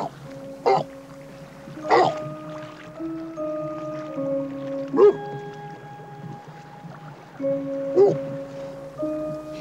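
An orphaned walrus pup gives several bleating, wavering calls for its mother, spaced a few seconds apart, close and fairly loud over a faint, hollow background.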